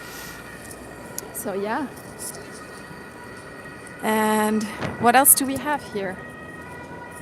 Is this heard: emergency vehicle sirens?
yes